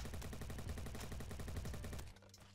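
Rapid automatic G36 rifle fire in the video game Bad Business, a fast steady stream of close, loud shots for about two seconds before stopping abruptly.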